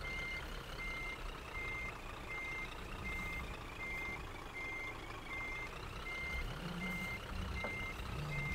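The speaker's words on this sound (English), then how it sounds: "The trick with reversing is to take it as slowly and as steady as possible." A truck in Scania Truck Driving Simulator reverses slowly, its reversing alarm beeping in an even repeating rhythm over a low steady engine rumble, fairly quiet throughout.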